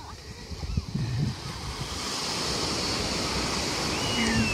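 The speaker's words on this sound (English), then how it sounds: "Some nice waves, which we're going to go and surf later." Waves break on a Cornwall beach in a steady surf roar mixed with wind buffeting the microphone, while a voice talks over the start and the wash swells louder toward the end.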